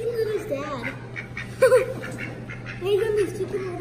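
A duck at the Randall Museum gives several short nasal quacks in quick bursts, close by, while a person talks to it over a constant low electrical hum.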